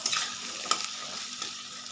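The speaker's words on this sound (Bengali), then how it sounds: "তার একটু আগে আমি একটু ভালো করে ভেজে নেব আলু আর পেঁয়াজটাকে" Potatoes and onions fry in a pan, giving a quiet, steady sizzle with a few sharp stirring scrapes.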